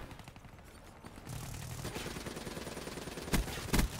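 Weapon fire in the shooter Black Ops 3, a steady rattle of fairly quiet shots under game noise, followed by two louder, sharper bangs near the end.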